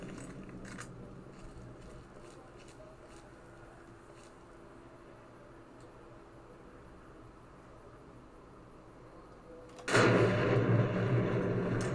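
A loud, roaring blast erupts in Fallout New Vegas after about ten seconds of low, murmuring background. The rumbling burst keeps going, full and close, until the end.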